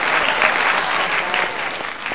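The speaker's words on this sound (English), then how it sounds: "Round of applause." Dense, steady applause from a crowd fills the whole stretch at a loud, even level, with no voices breaking through.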